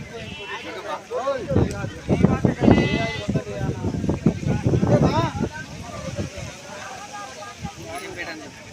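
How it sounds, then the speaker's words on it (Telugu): Several billy goats bleat close by in short, overlapping cries amid busy outdoor chatter and crowd noise at a livestock market. "చూస్తున్నారా ఫ్రెండ్స్ మేకపోతలు పెద్ద పెద్ద మేకపోతలు"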